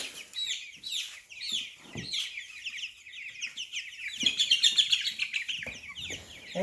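Newly hatched baby chicks peep and chirp in rapid, high, overlapping bursts, close by and fairly loud, with a dense flurry of calls near the end.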